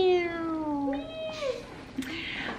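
A pet cat meows in a long, drawn-out call that falls in pitch, followed by a shorter second mew and a small chirp, close by in a quiet room.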